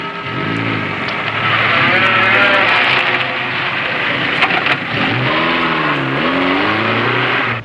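A car engine revs and pulls away, loud and close, its pitch rising and falling through several surges as it accelerates off, with bleating sheep mixed in nearby and no talk.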